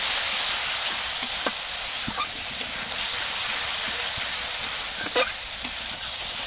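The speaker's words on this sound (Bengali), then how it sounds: "মশলা থেকে তেল বেরোনো পর্যন্ত মশলাটাকে একটু ভালোভাবে কষিয়ে নিতে হবে।" A spice paste with turmeric and tomato fries in oil in a pan, giving a continuous close hiss and sizzle, broken by occasional stirring scrapes and clicks.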